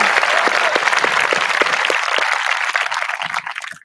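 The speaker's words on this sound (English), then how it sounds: "So let's give them a round of applause, please." A crowd at the Mannford High School 2020-21 graduation ceremony applauds in a sustained, full burst of clapping that cuts off abruptly at the end.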